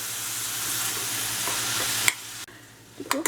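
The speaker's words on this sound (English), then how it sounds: "and then I have my medium organic onion. We're just gonna add it." A medium organic onion drops into a hot pan with curry ingredients for a bok choy and tofu tomato curry, bringing a steady close sizzle with stirring, a sharp clack near the end and a few utensil knocks after.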